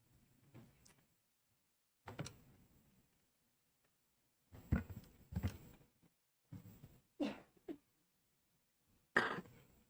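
Several short coughs and throat-clearing bursts come in scattered clusters during a House committee hearing, close and fairly quiet, with silence between them.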